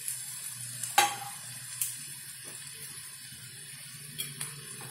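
Mashed potatoes, left slightly chunky, being stirred in a pan with a soft steady scraping, a few sharper spoon knocks against the metal and a faint sizzle underneath, fairly quiet and close.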